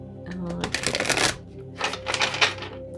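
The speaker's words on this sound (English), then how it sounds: "I'm just going to shuffle for you." Tarot cards riffle and slide together in close, crisp bursts of papery shuffling, two main flurries separated by a brief pause, alongside faint hints of a voice.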